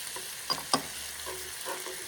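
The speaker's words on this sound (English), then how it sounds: "Now we're gonna put in our garlic, minced garlic" Minced garlic hitting a pan of translucent onions, with a soft continuous sizzle, a couple of sharp utensil taps near the start and light stirring afterward, no one talking.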